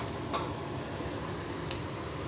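Taro (chamagadda) frying in a pan gives a steady, close sizzle with a couple of faint clinks of a utensil stirring, and no one talks.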